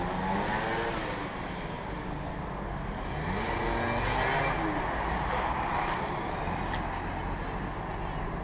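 A Citroën Xsara driven hard at full throttle through curves, its engine roaring steadily and loudly close by for the whole stretch, with a broad rumble of road noise underneath.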